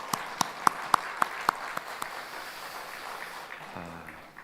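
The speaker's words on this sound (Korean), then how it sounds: "우리 남성교회 찬양대를 위해서 한 번 더 박수로 격려하도록 하겠습니다." Church congregation applauding the men's choir during a Sunday afternoon worship service: a few loud, separate claps first, then a softer, thin patter of scattered clapping that fades out.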